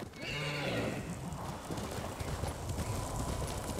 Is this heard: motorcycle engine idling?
no